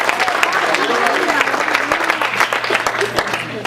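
Church congregation applauding during a Sunday worship service, a dense, steady wash of many hands clapping close by with crowd noise and voices mixed in throughout.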